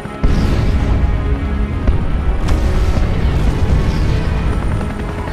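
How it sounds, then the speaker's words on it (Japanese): A huge explosion rolls over a city in Resident Evil: Revelations, a loud sustained rumbling roar with a second heavy boom midway, no voices. "爆発か。"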